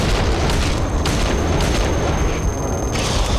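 Shotgun fire during a boss fight in Silent Hill 2, dense and loud booming blasts layered over rumbling noise, continuous and close with no pauses.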